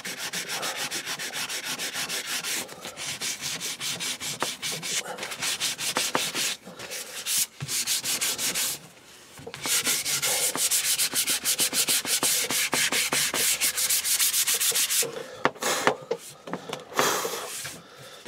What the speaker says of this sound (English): Just finish some bits off with sandpaper.